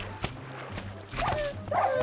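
Dog barking in the video game Lucky Islands: a sharp bark near the start, then fuller yelps and whines in the second half over a low game drone, with no talk.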